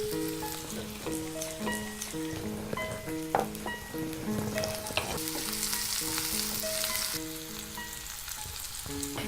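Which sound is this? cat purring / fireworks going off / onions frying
onions frying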